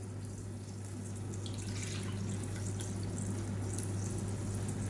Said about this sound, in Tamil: இப்போ இதில் வந்து புளி தண்ணியை நம்ம சேர்த்துக்கலாம்.